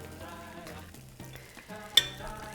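Spoonfuls of meatball pancake batter frying on a greased griddle, a soft steady sizzle close by with light clinks of a utensil and one sharp metallic tap, no speech.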